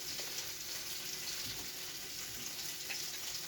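Steaks frying in a pan, a steady soft sizzle that hisses evenly throughout at low volume, with no voice over it.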